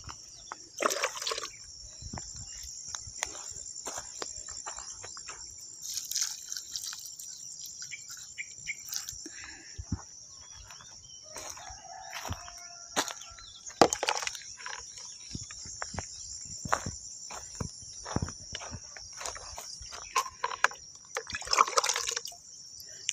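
Water drips and trickles from leaves after garden plants are watered, scattered soft drops and small splashes at close range over a steady high cricket chirring outdoors.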